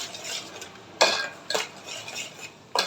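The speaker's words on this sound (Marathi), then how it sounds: "मी असं हलवते नाही तर खाली चिटकेल आपलं वाटण तोपाला" Masala paste being stirred in a pan over full heat while cooking Bhogi vegetable curry, with a spoon scraping and clinking against the pan in a few distinct strokes over a steady close background hiss.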